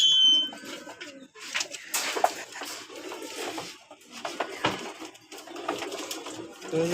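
Pigeons coo softly in the breeding room of a racing pigeon loft, low murmuring calls with occasional flutters and faint rustling nearby.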